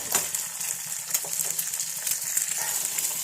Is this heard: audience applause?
no